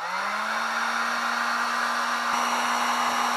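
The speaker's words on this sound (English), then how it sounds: "I'm just going to use a heat gun to shrink it." Heat gun blowing steadily to shrink tubing on a lawn tractor wire near the carburetor, a constant close airy roar with a faint steady hum, no voices.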